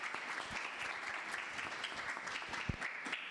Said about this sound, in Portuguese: Queria sugerir uma salva de palmas, né, para os convidados, para vocês.